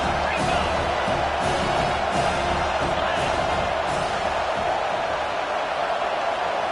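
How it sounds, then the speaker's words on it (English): Dense, constant roar of a big stadium crowd at a football game during a goal-line series, a steady loud wash with no single voice standing out. "this crowd really affecting the football game"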